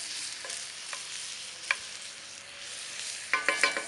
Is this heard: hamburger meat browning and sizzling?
yes